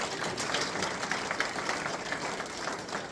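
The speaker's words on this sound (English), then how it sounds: "let's give her another round of applause" An audience at a storytelling event on the Osage Reservation in Pawhuska, Oklahoma claps steadily, a dense wash of applause holding level for the whole stretch.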